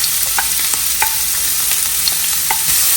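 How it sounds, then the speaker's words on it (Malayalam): Chopped onion frying in hot coconut oil in an appam pan gives a loud, steady sizzle throughout, broken by light scraping from stirring, with no voices. "വെളിച്ചെണ്ണ ചൂടായി വന്നതിന് ശേഷം നമുക്ക് ചോപ്പ് ചെയ്ത് വെച്ചിരിക്കുന്ന സവാള ചേർത്ത് കൊടുക്കാം."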